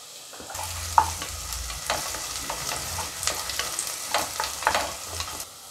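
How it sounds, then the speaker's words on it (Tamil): Onions frying and being stirred in oil in a pan while making Tamil-style rice upma, with a steady sizzle and repeated scraping stirs that come close and clear, with no talking. "கொஞ்சம் வெங்காயம் நல்லா வதங்கட்டும்."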